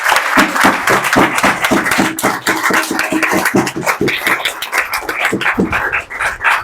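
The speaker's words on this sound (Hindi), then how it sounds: "यीशु के लिए जोरदार ताली बजाएंगे।" A church congregation claps loudly for Jesus during a Resurrection Sunday worship service, a dense, continuous burst of many hands clapping that runs throughout, close and full.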